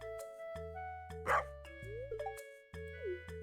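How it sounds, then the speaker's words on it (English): A dog in a Stardew Valley game cutscene gives a short bark over steady plinking game music with rising electronic tones. "This is the cutscene with Dusty, the dog."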